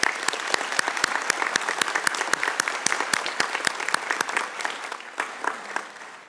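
A graduation audience in Launceston gives a sustained round of applause, with dense clapping and a few louder individual claps that thin out toward the end.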